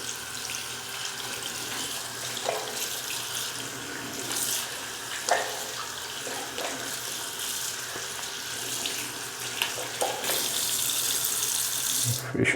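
Tap water runs steadily into a sink during handwashing with soap up to the forearms, a constant close splashing flow with brief surges and clinks, no voices over it.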